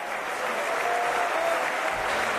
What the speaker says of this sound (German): stehende Ovation, mitreißende Rede von Herrn Söder